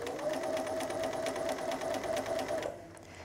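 Sewing machine running steadily as it stitches quilt charm squares of fabric together, a fast even mechanical whir with rapid ticking that stops shortly before the end.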